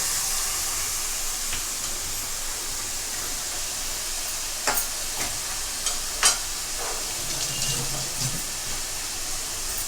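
Ginger-garlic paste is stirred into a sizzling pan for a small-fish curry. A steady, close frying hiss runs throughout, broken by a few sharp clicks and scrapes of the spoon.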